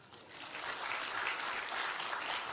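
An audience at a stand-up comedy show applauds, a dense and steady patter of clapping that swells quickly and holds at moderate loudness, with no speech over it.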